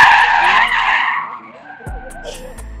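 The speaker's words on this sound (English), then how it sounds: "How are you sliding a Ferrari?" A Ferrari drift car slides at a drifting event in Toronto, its tires letting out a loud, sustained screech that fades after about a second and a half, followed by quieter engine and crowd noise nearby.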